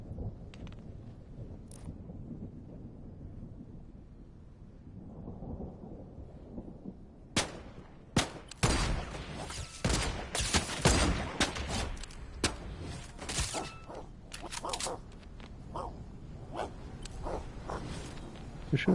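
Gunfire in the video game Fortnite: after a quiet start, a dense stretch of sharp shots and bursts crackles for the final ten seconds, loud, rapid and irregular.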